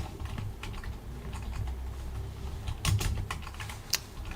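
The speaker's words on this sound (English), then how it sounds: "Excuse my typing." Quiet, steady clatter of fingers typing on a computer keyboard, irregular rapid key clicks with a few sharper taps, no talking.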